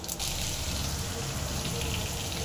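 Mustard seeds sizzling and popping in hot oil in a pan, a close, steady crackling hiss that runs unbroken throughout.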